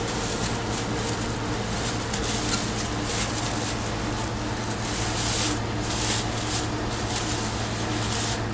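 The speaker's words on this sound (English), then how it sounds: "I'm going to start masking off the rotors so we don't get any dip on the rotors" A plastic bag is worked around a car brake rotor to mask it before Plasti Dip coating. The result is continuous close rustling and rubbing with crinkly surges, loud and alone.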